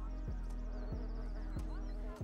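A housefly buzzes with a wavering drone in a scene from the 1993 film Falling Down, set in a hot car stuck in traffic, accompanied by a few soft low thumps recurring at regular intervals.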